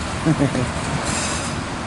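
Empty CSX autorack freight train rolling past and slowly gaining speed, a steady broadband rumble of wheels and cars close by, with people talking briefly over it near the start.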